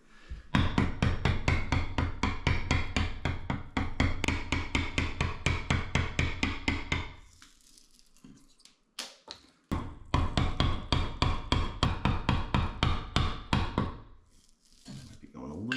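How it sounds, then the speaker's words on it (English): A sharp chisel struck repeatedly with a mallet to cut out wood for a pocket door pull, a close, steady series of loud knocking blows, a pause with quiet talk, then another run of strikes. "I am going to start with a nice sharp chisel and start getting this material out of here"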